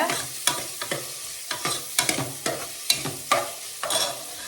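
Onions frying in a pan for ghee rice at a home feast, with close sizzling and a series of sharp, rhythmic stirring scrapes roughly every half second, no voices.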